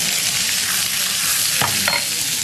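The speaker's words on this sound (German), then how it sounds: "Das musst du schön anbraten, gell?" Meat stirred in a hot pan on a TV cooking show, a steady close sizzle with two short scraping stirs late on.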